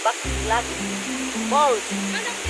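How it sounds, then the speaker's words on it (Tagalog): Steady rushing roar of the waterfall at Baclag Falls, just above Daranak Falls, a dense constant wash of water close by, with faint voices and a low musical tone under it. "Kaya, dito kami ngayon sa Baclag Falls."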